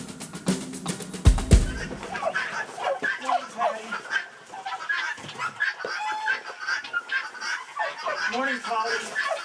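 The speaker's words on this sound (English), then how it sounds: "I have 4 guinea hens, and I can't tell them apart, so I call them all Polly" Four guinea hens cluck and chatter repeatedly close by, a busy run of short calls with a sharp burst near the start, while a person talks over them.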